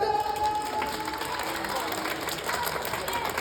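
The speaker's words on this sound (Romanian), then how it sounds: "Aplauze pentru Shadow!" A crowd of children and parents applauds Shadow at a live Sonic stage show, a wash of steady clapping and cheering that fills the hall, while a voice speaks over it.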